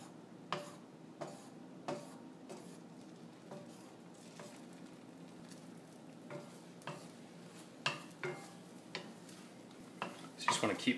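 A utensil scrapes and taps at scrambled eggs in a cast iron skillet over a soft sizzle, irregular clicks and pushes coming close and fairly quiet, busier near the end.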